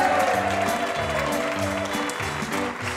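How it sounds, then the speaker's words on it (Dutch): Audience applause at a revue finale, clapping running throughout under a strong band playing with a steady beat. "Onze floor manager Kim, daar mag je ook voor klappen."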